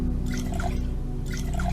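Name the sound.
water dripping while refilling bottles in video game NEO Scavenger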